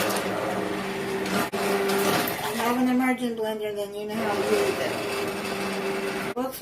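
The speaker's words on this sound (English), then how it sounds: "If you have an immersion blender, then you know how to use it." An immersion blender whirs at a steady pitch blending butternut squash soup, dipping and rising as it works, with short stops and a voice partly over it.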